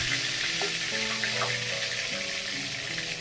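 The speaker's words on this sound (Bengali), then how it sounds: "মাছটা ভালো করে ভাজা হয়ে গেছে এক পাশে, আরেক পাশে উল্টে দিলাম" Katla fish frying in hot oil in a pan, a dense, steady sizzle close up with faint clinks and bubbling, no voices.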